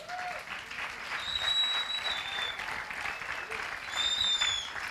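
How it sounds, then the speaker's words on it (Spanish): Audience at a church gathering applauding steadily for several seconds, a moderately loud wash of clapping with faint tonal bits and voices mixed in. "Podemos aplaudir."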